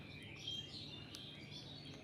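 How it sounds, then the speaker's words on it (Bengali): Birds chirp faintly in the afternoon, giving thin scattered high calls over a low steady background hum. No one speaks. "বিকাল পাখিতে ডাকতাছে"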